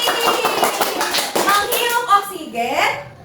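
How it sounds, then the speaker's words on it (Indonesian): A fifth-grade elementary school class breaks into short, bright applause for a student during a science lesson, a few seconds of scattered clapping mixed with children's voices. "Betul, tepuk tangan untuk Alvin."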